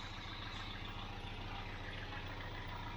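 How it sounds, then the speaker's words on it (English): A stone-cold 24-year-old Toyota MR2 engine idles with a smooth, steady, even rhythmic thrum, heard close and alone. "Just listen to that. Stone cold engine."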